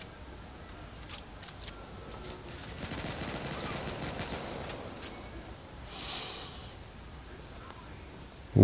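Rapid bursts of weapon fire in the mobile shooter Modern Strike Online rattle along in the middle stretch, moderately loud but compressed, with softer scattered game effects before and after and a sharp loud hit at the very end.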